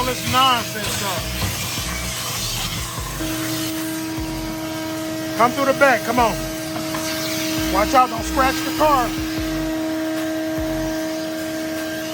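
A vacuum cleaner drones steadily with a constant motor whine while people talk over it nearby.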